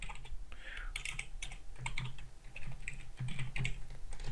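A computer keyboard is typed on nearby in quick, uneven bursts of light key clicks, with a short pause midway before the tapping picks up again.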